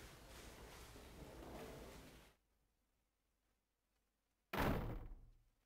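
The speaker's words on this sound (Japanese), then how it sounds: "いきなりドアが大きな音を立てて開け放たれた。" In a DS mystery game, a door is suddenly flung open with a loud burst that fades quickly. Before it, a stretch of faint noise gives way to complete silence.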